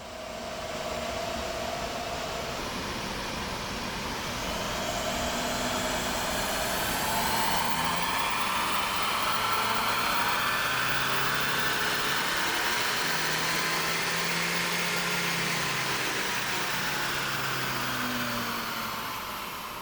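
A Skoda Fabia vRS with a 1.9 TDI PD130 diesel engine runs on a dyno, making a steady broadband roar with a slowly rising tone sweep, sustained and fairly loud with no talking.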